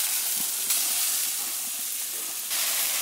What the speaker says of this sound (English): Burgers are cooking.